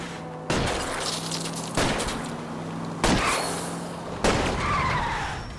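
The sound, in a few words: gunshots fired at a car tire in L.A. Noire video game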